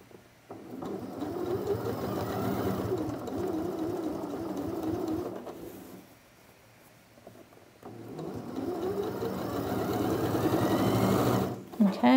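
Sewing machine stitching around a V-neckline, a steady close whirring run that stops briefly in the middle and then resumes, ending with a short clunk, with no talk over it.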